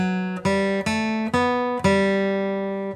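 Acoustic guitar picking the opening of the bluegrass tune Blackberry Blossom, five clear plucked notes in an even rhythm, each ringing bright and close before the next.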